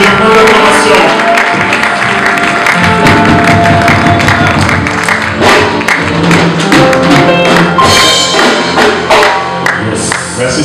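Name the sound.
congregation applauding in church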